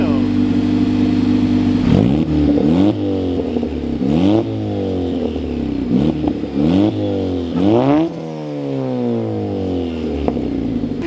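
A Honda EG Civic engine revs repeatedly while driving, its pitch climbing and dropping through several gear changes in close, loud bursts, with voices talking over it.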